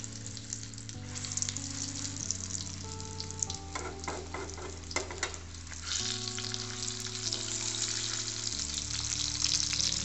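Food fries steadily in a kadai (wok), a continuous close sizzle that swells louder toward the end, with brief stirring clatter partway through and a low tonal hum underneath.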